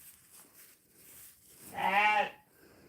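A small Shetland cross Welsh Mountain sheep gives a single clear, nasal bleat close by, lasting about half a second after a quiet stretch of faint background noise.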